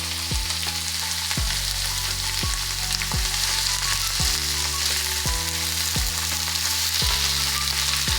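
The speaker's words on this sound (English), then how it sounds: "Now I am going to deep fry at 300 Fahrenheit." Potato fries deep-frying in oil at 300 Fahrenheit give a loud, steady, close sizzle that runs without pause, with a faint repeating tonal hum underneath and no voices.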